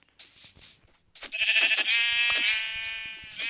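Two sheep bleats in a video game, the second long and wavering, rising over a quieter stretch; clear and fairly close, with no talking.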